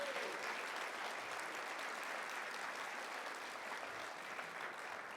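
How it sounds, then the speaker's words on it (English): A lecture audience at Meijer Gardens gives Betsy steady, sustained applause for the whole stretch, a dense wash of many hands that sounds somewhat distant and quiet. "let's give Betsy the biggest round of applause ever"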